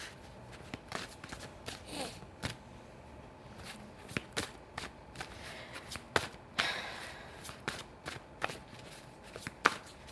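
Oracle cards are shuffled for a reading, making repeated soft riffling and tapping bursts at an irregular pace, close and fairly quiet, with no voice over them.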